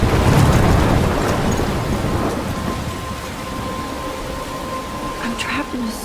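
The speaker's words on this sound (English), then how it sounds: "I'm trapped in a storm?" Heavy rain and rolling thunder from a thunderstorm in the video game Life is Strange, a loud steady wash of downpour that eases slightly over several seconds, with a faint voice underneath.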